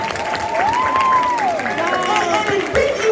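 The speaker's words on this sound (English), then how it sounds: "themselves a round of applause" Students and staff applaud at a middle school assembly during a mayor's visit, with sustained clapping and some cheering while a voice continues over the crowd.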